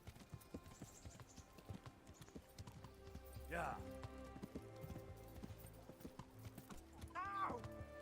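Horse hooves clip-clopping in the Kingdom Come: Deliverance video game, a steady run of hoofbeats with a horse whinnying partway through, alongside a soft music bed and a voice talking.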